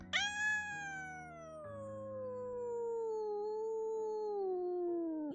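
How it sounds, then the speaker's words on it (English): An unhappy cat yowls in one long, drawn-out, wavering cry that slides slowly downward in pitch, loud and close, with no talking. "Oh my, she's very unhappy kitty."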